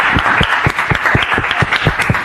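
A live audience greets a musician's arrival on stage with loud, close applause made of sharp, distinct claps in an uneven rhythm, continuing throughout without speech.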